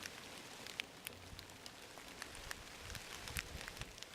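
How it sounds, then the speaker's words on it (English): Big, heavy raindrops falling steadily on ground covered with fallen oak leaves, a dense quiet patter with sharper individual splats scattered throughout. "listening to the sound of schlepping and sloshing as the big, heavy raindrops steadily hit the ground covered by the fallen"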